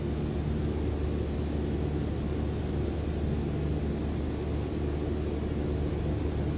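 A simulated Cessna 152 on landing approach with flaps fully extended gives a steady, loud engine drone and airflow rumble, unchanging and continuous throughout with no talk.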